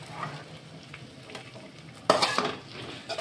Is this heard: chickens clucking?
no